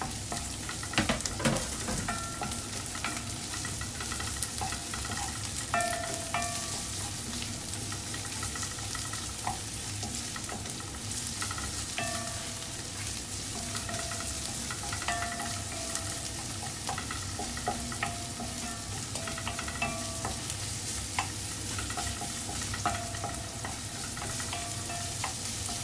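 Chopped onions sizzling in hot oil in a pan as the base for a sardine and miswa soup with patola, a loud, continuous dense fry crackle with occasional stirring clatter throughout.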